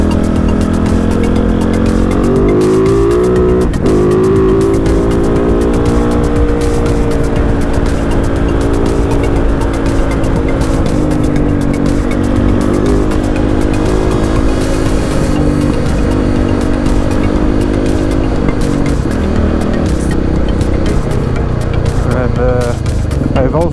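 Kove 450 Rally motorcycle with an ECU swapped for the Pro version and Euro 5 parts removed, ridden on rough European trails. Its loud, steady engine drone rises and falls with throttle changes, heard up close throughout.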